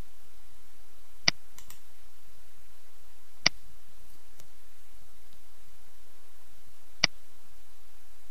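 Three sharp, isolated computer mouse clicks spaced a few seconds apart over faint background hiss, made while working through a client portal document hub.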